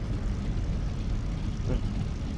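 The engine of a P-47 Thunderbolt runs steadily in the DCS flight simulator, a continuous rough propeller drone with a broad low rumble. It holds a constant level, with one brief swell near the end.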